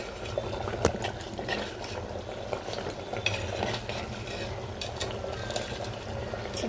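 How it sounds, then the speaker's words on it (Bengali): Chicken cooking in a clay pot, finished with lemon, is stirred with a utensil, giving continuous scraping and soft sizzling at close range, punctuated by a few sharper clinks, with no talking. "একটু নেড়ে নেবো।"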